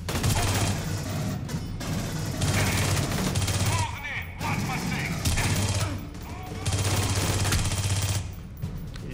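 A submachine gun in Aliens: Colonial Marines fires in long, dense automatic bursts with short breaks between them, loud and close, while a voice talks underneath.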